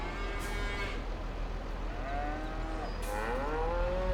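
Cattle on a farm in the Farming Simulator 22 video game low and bellow in several drawn-out moos, one after another, over a steady low background hum.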